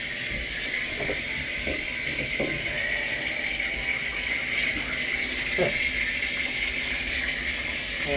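Water gushing steadily into a storage tank, a constant close rushing flow with a few faint knocks and bumps underneath and no voices.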